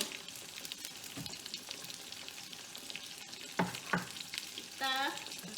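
Shallots and garlic stir-fried in a pan, a low, steady sizzle with occasional scraping and clinking strokes of the spatula near the end, heard close but fairly quiet, with no talking.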